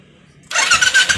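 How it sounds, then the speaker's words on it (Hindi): A Royal Enfield Classic 500 motorcycle, just repaired after a stuck relay caused a starting problem, cranks and fires up after a quiet moment. The engine catches abruptly and settles into a loud, close, uneven thumping. "और अब देखिए यहाँ पर बाइक स्टार्ट हो गई।"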